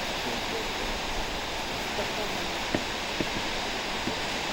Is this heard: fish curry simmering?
no